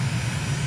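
A fixed-wing aircraft in Microsoft Flight Simulator on final approach near touchdown, a steady loud engine drone with a low propeller-like throb, brief and without talk.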